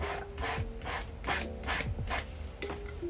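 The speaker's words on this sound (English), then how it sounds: "I'm just gonna sand it." Rhythmic back-and-forth sanding strokes on a small polymer clay coffin, about seven raspy rubbing passes close up, with no talk.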